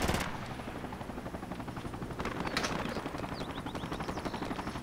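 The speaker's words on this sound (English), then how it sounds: "Helo's coming back." A video-game helicopter gives a rapid, even rotor thump that stays steady and fairly close, mixed with bursts of machine-gun fire and no talking.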